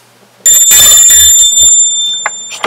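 A bright notification chime rings out alone, a sustained metallic bell tone with a sharp attack and a slow decay, followed by a few fainter dinging blips near the end.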